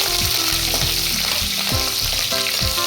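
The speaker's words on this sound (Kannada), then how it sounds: "ಬೆಳ್ಳುಳ್ಳಿ, ಕರಿಬೇವಿನ ಸೊಪ್ಪು, ಹಸಿಮೆಣಸು, ಗುಂಟೂರು ಮೆಣಸು ಇಷ್ಟು ಹಾಕಿ ಸ್ವಲ್ಪ ಫ್ರೈ ಮಾಡೋಣ." Garlic, curry leaves, green chillies and Guntur chillies frying in hot oil for a moong dal dish, giving a loud, steady sizzle with spattering crackles and occasional stirring scrapes throughout.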